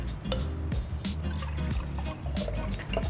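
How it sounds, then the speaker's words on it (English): Whole milk pours steadily into a sterilized jar in a home kitchen, a continuous close liquid fill with gurgling trickles and small splashes throughout, no talking. "So it's sterilized, and go ahead and put in the milk. Pour the milk."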